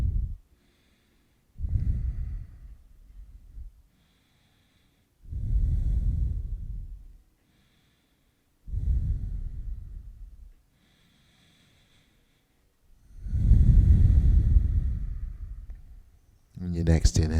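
Slow yoga breaths repeat in long, close, airy exhales and inhales, five or so rising and falling in even rhythm with quiet gaps between, ending in a short burst of clicking.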